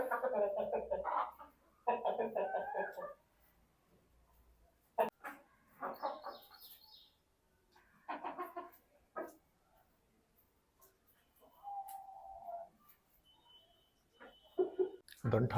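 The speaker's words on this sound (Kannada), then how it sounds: "ದಂಟು ಹಾಕೈತಾ, ಎಲ್ಲ ಕೋಳಿಗಳು ತಿಂತದ." Chickens feeding on scattered stalks cluck in short, scattered bursts close by, broken by pauses, with people talking at times over them.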